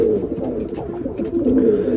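A male pigeon coos nearby in low, throaty, repeated rolling calls, steady and close.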